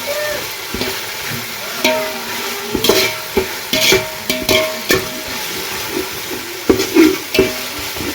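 Ginger paste fries in hot oil with a constant sizzle, broken by repeated spatula scrapes and clanks against the pan at an irregular rhythm, close and clear.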